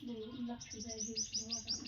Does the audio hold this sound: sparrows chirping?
yes